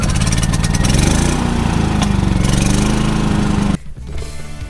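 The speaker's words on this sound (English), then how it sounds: "it's an inverter generator." An inverter generator at an RV campsite drones steadily and loudly up close, then cuts off abruptly near the end, leaving a quieter background rumble.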